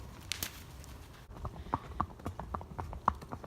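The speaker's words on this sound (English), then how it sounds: "We got 4 horses out." Four horses walking out on a trail in the evening, their hooves making a steady, uneven clip-clop of soft, close thuds on the ground, with no talking.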